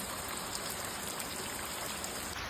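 Steady rain falls over a farm, a soft even hiss of drops with no pauses, faint and continuous throughout, and no one speaking.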